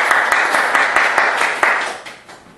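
Audience applause for a lecturer at a Korean book-launch video lecture, a dense steady patter of many hands clapping that stays loud, then tapers off toward the end, with no voices over it.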